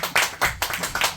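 Audience at a neighborhood association launch ceremony in Gyeongsan, South Korea clapping for a pastor, with hand claps rising in bursts about every quarter second, close by and fairly loud.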